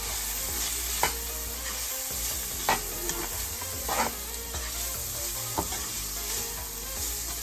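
Vegetables and ground spices such as garam masala, coriander, cumin and turmeric frying in a pan, a constant close sizzle broken by intermittent scraping taps as a utensil stirs the mixture.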